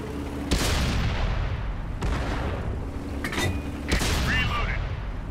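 Shells strike the player's tank in the World of Tanks game: a few heavy, booming impacts about a second apart, loud and close over constant engine rumble.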